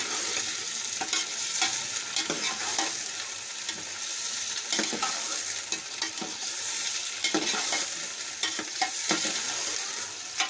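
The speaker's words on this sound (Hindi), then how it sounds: "चिकन शामिल कर दें और इसका भी जो है अच्छे तरीके से इसको ऑयल में फ्राई कर लें।" Chicken pieces fry with onions in hot oil for Lahori chicken pulao, producing a loud, continuous close sizzle broken by repeated scraping stirs of a spoon against the pot.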